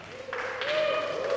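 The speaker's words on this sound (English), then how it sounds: "Who's clapping?" Audience clapping at a Singapore music industry talk, a soft smattering of applause rising toward the end, with a sustained tonal hum running underneath.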